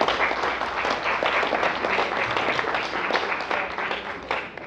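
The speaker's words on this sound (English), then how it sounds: "please hold your applause" Steady applause from a crowd, a dense wash of clapping that holds at an even level throughout.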